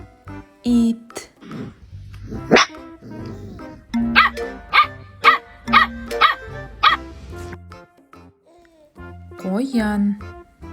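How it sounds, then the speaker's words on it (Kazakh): A dog gives a quick run of sharp barks close by, framed by softer whines and vocal murmurs before and after. "ит,"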